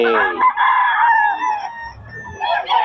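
A gamefowl stag crows loudly and close by in one drawn-out call, followed by softer clucking and a second short crow starting at the end.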